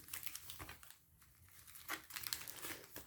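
Duel Masters booster pack wrappers crinkle and rustle as the foil packs are stacked and shuffled by hand, close and fairly quiet in bursts, with a short lull midway and no talking.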